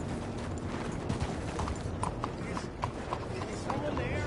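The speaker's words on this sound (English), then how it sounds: "Hey, good-looking horse there." Horse hooves clip-clop in the western video game Red Dead Redemption 2, a steady rhythmic patter of hoofbeats at moderate distance, heard under a character's voice and ambient background.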